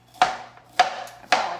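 Knife cutting through a head of cauliflower on a board, three sharp evenly spaced chops close by, each with a brief crunchy tail.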